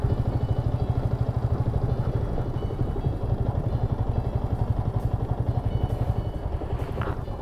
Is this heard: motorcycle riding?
yes